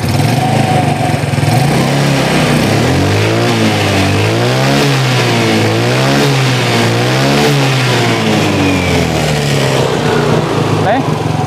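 Yamaha Mio scooter engine with a new carburetor, running rough as it revs repeatedly up and down in a wavering, uneven rhythm, close and loud throughout.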